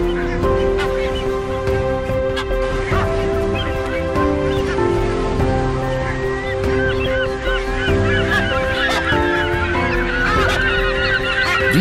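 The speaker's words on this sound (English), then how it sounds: "A breeding colony is seldom, if ever, quiet, as the incessant high-pitched calls sound out." A breeding colony of sooty terns calls incessantly, a dense, overlapping chorus of loud, harsh, high cries from many birds at once, continuous throughout.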